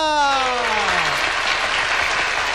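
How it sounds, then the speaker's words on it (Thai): Loud, steady audience applause fills the room to welcome a new young singer at a stage performance, with a falling vocal tone briefly heard at the start. "ปรบมือดังๆต้อนรับนักร้องคนใหม่ที่จะเกิดขึ้นในวงการนะครับ"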